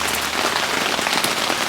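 Steady rain drums on a SylvanSport GO camper trailer during a storm at Cunningham Falls, a dense, continuous patter of close drops with no pauses and no talking.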